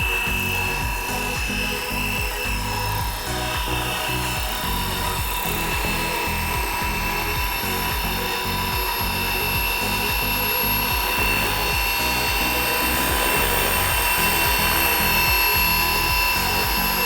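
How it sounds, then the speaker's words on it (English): Large Fly Wing FW450L V3 RC helicopter flying in to land outdoors, its rotor producing a loud, steady buzzing whine with a throbbing beat that continues unbroken throughout, close to the listener. "You can bring it back anytime, Steve, for landing"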